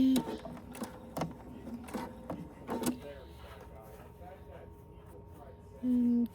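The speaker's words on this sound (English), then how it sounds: "I'm just top stitching" A home sewing machine top stitching a small fabric mini wallet, with several short mechanical bursts and clicks early on, quieter handling afterward, and a steady motor hum near the end; a voice is heard briefly.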